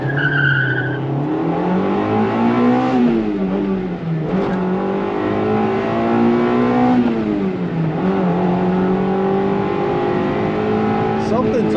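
A Honda car accelerates hard in a full pull on an unfamiliar road, its engine revving up through the range in loud, rising sweeps with brief dips between gears; the car is hard to shift at high RPM.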